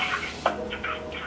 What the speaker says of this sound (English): Spritz my hair with water.